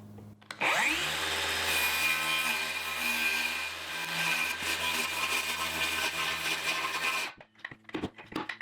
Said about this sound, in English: I am just going to use my battery powered skill saw here.